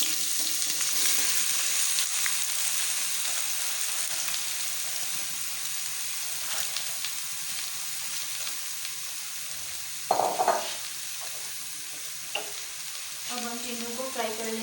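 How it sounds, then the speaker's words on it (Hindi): Round gourds (tinda) frying in half a cup of hot oil in a kadhai, a strong continuous crackling sizzle with occasional spoon scrapes and knocks, heard up close with no talking. "अब हम टिंडों को फ्राई कर लेंगे। पहले हम टिंडों को ऑयल में फ्राई करेंगे"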